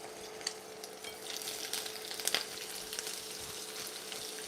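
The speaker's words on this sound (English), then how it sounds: "So we are moving to my shrimp. And considering that I have it, I will quickly add to my pan." Shrimp fry in a pan alongside steak and tomato salad, giving a steady soft sizzle with occasional louder crackles and stirring clatter, close by and without speech.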